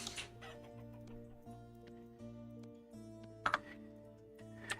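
Chickens clucking in a multiplayer survival video game, soft scattered clucks and a couple of sharp clicks over a steady low musical drone, no voices.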